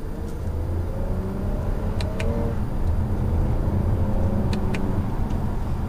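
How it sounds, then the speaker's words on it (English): A 2019 Toyota Camry XSE accelerates in second gear in manual paddle-shift mode, giving a steady cabin engine drone and road rumble that build slowly over several seconds. "So we're gonna go ahead and do one last acceleration test."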